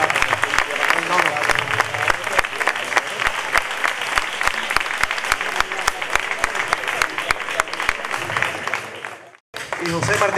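At a flamenco singing contest final, a crowd applauds a prize winner with loud, dense, sustained clapping, sharp individual claps standing out, before a brief drop near the end and a resumption.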